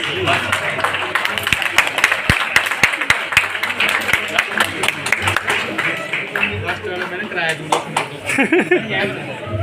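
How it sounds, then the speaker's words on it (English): Applause for the winners at a Himachal Pradesh bodybuilding competition in 2021, a dense crowd clapping with a few sharp louder claps standing out, while people keep talking over it throughout. "Clap for winners"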